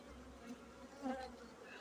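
Honey bees hum inside an open hive, a quiet, steady buzzing drone that continues without a break through the short moment, with no voices.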